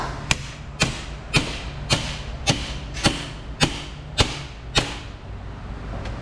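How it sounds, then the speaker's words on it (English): A pneumatic driver hammering on rods in a Volkswagen, nine sharp metallic impacts struck at an even, steady pace about half a second apart, close and crisp, each ringing briefly. "give it some assault impacts with the pneumatic driver"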